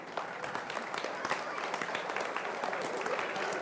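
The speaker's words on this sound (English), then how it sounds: "let's go ahead and give them a round of applause" Audience at a county 4-H fair supreme showmanship event applauding the showmen, a steady crackle of many hands clapping at moderate distance with some crowd voices mixed in.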